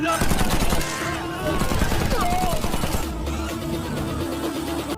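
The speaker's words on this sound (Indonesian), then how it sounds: "Tiba-tiba Dark Devil menembakkan pistol ke arah tim Rada" Pistol shots fired by a villain in a dramatic film scene, sharp bursts of gunfire in quick succession over tense background sound and score.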